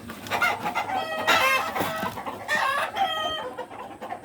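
Chickens and roosters on a poultry farm clucking and crowing in several overlapping bursts, loud and fairly close, with no talk.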